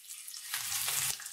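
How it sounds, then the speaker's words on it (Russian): Coarsely chopped onion hits hot oil in a pan, and a soft hiss swells into a steady sizzle that lasts about a second before easing off. "Сейчас пропассируем лук, морковь."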